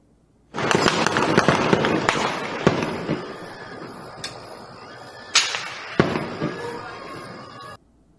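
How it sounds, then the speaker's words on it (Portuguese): Intense gunfire from a shootout between rival groups in a residential area of Rio de Janeiro's north zone: a fast, crackling volley of sharp bangs, with a few louder isolated shots cracking out later. "imagens gravadas pelos moradores registraram o tiroteio intenso"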